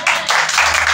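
A church congregation applauding together, a dense, steady wash of clapping filling the whole moment, loud and close.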